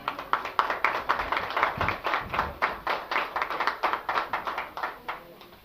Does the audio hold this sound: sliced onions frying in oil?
no